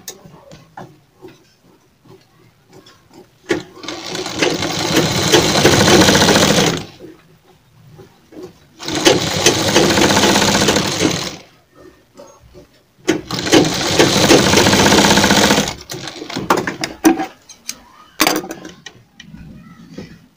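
A sewing machine stitches a half collar neck design, running in three sustained loud bursts separated by pauses filled with small handling noises and brief talk.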